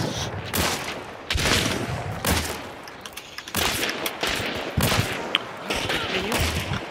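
Bursts of shotgun fire in an online duos shooter game, several loud blasts spaced a second or so apart over steady background game noise, with a voice reacting briefly between shots.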